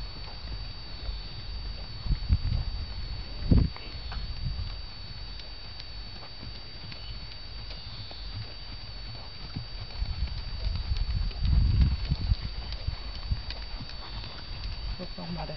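Hooves clip-clop in a steady trotting rhythm on firm ground during a riding lesson, moderately close, with occasional heavier thuds and a person talking intermittently.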